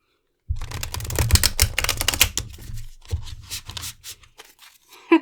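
A tarot card deck is shuffled by hand, a rapid run of crisp papery riffles and clicks up close, thinning into a few scattered taps and a final snap.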